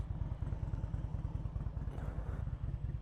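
Superbike motorcycles idling in a beach parking area on the Fourth of July, a low, steady, rapid engine throb that is fairly close and runs continuously, with a faint higher rattle partway through.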